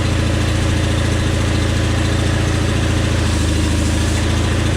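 The Onan engine of a John Deere 318 lawn tractor runs at high idle with a loud, steady drone and a constant close rumble throughout.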